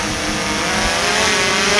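A DJI Air 3 drone climbs while carrying a 500 ml bottle of water, its propellers making a steady, loud, close whine with a droning hum that holds evenly throughout.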